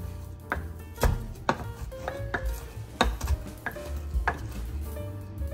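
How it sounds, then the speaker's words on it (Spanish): Ingredients are pounded in a mortar to be sautéed with onion, a series of close, uneven thuds and crunchy knocks in a loose rhythm, with gritty grinding between strikes. "Y colocamos en el mortero porque los vamos a machacar para sofritarlos con la cebolla"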